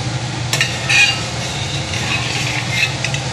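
A ladle stirs Bengali puja-style khichuri of dal and water in a pot in a home kitchen, giving soft scraping swirls with a few light clinks over a steady low background hum, with no talking.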